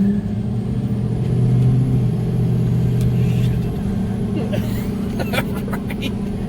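A diesel LML truck engine runs with a steady, loud low rumble throughout, heard from inside the cab, with brief rattles and clicks near the end; voices are faintly present.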